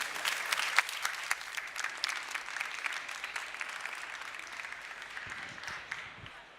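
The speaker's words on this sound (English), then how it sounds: "So please join me in giving them a big round of applause" Audience applause for debate panelists at a tech conference life science stage, sustained brisk clapping from a sizable crowd, fairly distant and gradually thinning toward the end.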